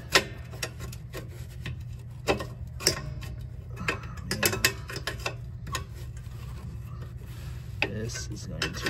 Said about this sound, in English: so I'll try the wrench.